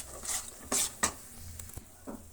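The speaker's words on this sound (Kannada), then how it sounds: "ಸೇರಿಸಿ ಅದನ್ನು ನೀಟಾಗಿ ಕಲಿಸ್ತಾನೆ ಇರೋಣ" A spoon scrapes and stirs a milk powder kalakand mixture in a pan as hot oil is added. A few sharp scrapes and clinks come close and loud, and a soft sizzle runs between them.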